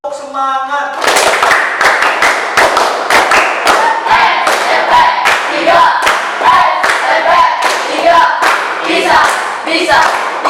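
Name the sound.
students' rhythmic clapping chant 'tepuk semangat'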